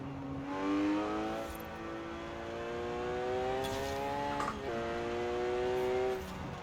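A Porsche 911 GT3 RS in Forza Horizon 4 revving hard through a canyon, its engine note climbing steadily, a brief drop at a gear change, then climbing again, loud and close throughout.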